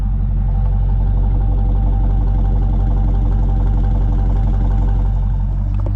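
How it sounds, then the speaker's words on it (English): A 2009 Dodge Challenger R/T on its stock exhaust idles steadily, a deep, even low rumble held close and loud for the whole stretch with no talking. "Stock exhaust, but it's got a good sound to it."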